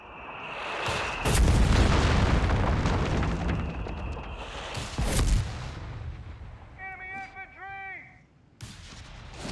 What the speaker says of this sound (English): Mortar forcing away the middle MG